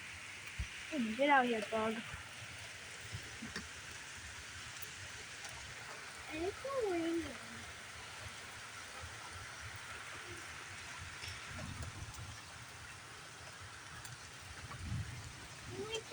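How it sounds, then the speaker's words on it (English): Heavy rain falls steadily during a storm in Pennsylvania, a faint, constant hiss heard from some distance, with people talking over it at intervals. "Like it's raining like crazy down there."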